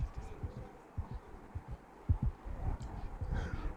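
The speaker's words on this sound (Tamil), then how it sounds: "எனக்கு ஹார்ட் பீட்டு டப்பு லப்பு டப்பு லப்பு டப்புன்னு அடிக்குதியா?" Deep heartbeat thumps from the Baby in Yellow horror video game, a steady run of low, muffled pulses repeating about twice per second at moderate volume, with faint background hum.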